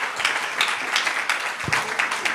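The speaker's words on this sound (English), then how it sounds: "So please join me in applauding this panel for the inputs." An audience applauds a panel at a child protection and safety forum, a moderate patter of many hands clapping steadily throughout.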